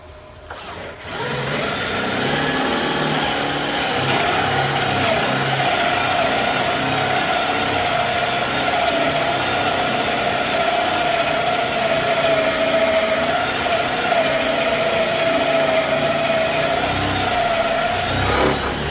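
A drill bores a 1.25 inch diameter hole, a loud sustained motor whine that starts after a short click and runs steadily to the end.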